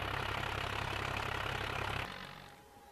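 A tractor engine idles at a steady low rumble in a farming simulator, loud and continuous for about two seconds before it cuts out and leaves a faint background hum.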